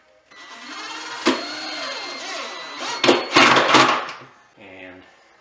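A power drill driving a screw into a subwoofer box top whirs steadily with a wavering motor pitch, then revs louder in short bursts before stopping.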